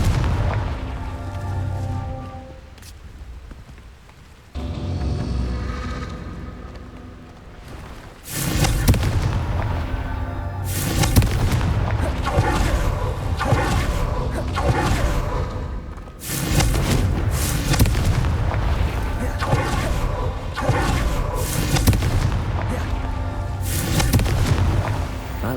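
Repeated booming blasts of the Confringo fire spell in Hogwarts Legacy, loud and dense explosions with rumbling thuds rolling one into another across the whole stretch.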